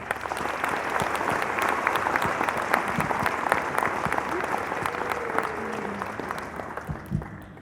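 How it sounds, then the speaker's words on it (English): A crowd at a Retrieving Freedom service-dog graduation in Sedalia, Missouri gives graduates a long, dense round of applause, steady and fairly loud throughout, with a few louder individual claps and faint voices mixed in underneath. "If everyone wants to give everybody another big round of applause."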